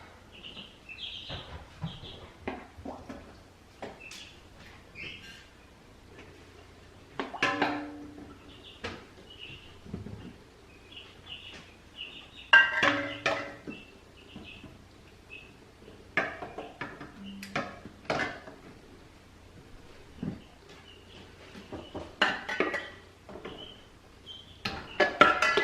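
Glass jars set into a pressure canner and its lid put on, a series of close clinks and clunks at irregular intervals with quiet pauses between.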